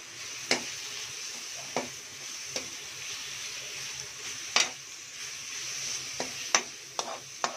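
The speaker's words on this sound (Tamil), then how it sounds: "அதுக்கப்புறம் கொஞ்சம் பூண்டு சேர்த்து இப்போ வதக்கலாம்." Onion and garlic sautéing for dry fish masala, a soft steady sizzle punctuated by sharp, separate clicks and taps of a spoon against the pan every second or so.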